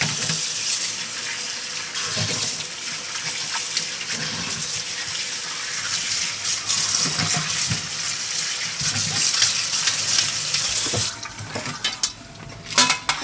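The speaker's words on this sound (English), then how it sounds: "I'm going to drain and wash these old bones." Cold tap water streams steadily over oxtail bones in a pot, a continuous hissing splash with occasional clinks and sloshes as the bones are rinsed, ending in choppier bursts of handling.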